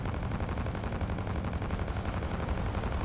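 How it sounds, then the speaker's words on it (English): Missiles launching from a ship in the space combat game Fractured Space, a dense continuous barrage of rapid firing bursts, loud and steady throughout with a couple of brief high electronic tones over the roar. "Firing Norris missiles."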